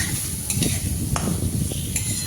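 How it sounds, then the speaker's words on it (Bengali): Two large chopped onions go into a hot pan for a mutton vindaloo and sizzle steadily, with a hissing fry and occasional clinks and scrapes of a stirring utensil against the pan. "এবারে দিয়ে দেব কুচনো 2টো বড় পেঁয়াজ।"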